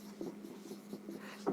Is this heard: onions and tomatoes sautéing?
no